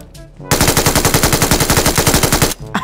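Automatic weapon fire in the shooter game PUBG Mobile, a loud, close burst of about twenty rapid shots lasting roughly two seconds, with a brief quieter moment on either side.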